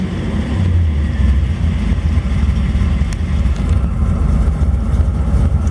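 A 1955 Chevrolet Bel Air two-door hardtop resto mod, hot soaked after a drive on a day over 100 degrees, runs with a steady deep low rumble close by, its idle continuous and loud.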